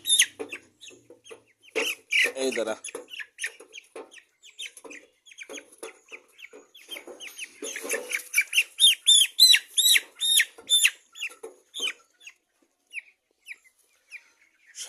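Broiler chickens on a farm cluck and squawk in a busy, uneven stream while one bird is caught by hand, growing louder and more agitated toward the end; a brief spoken remark is heard near the start.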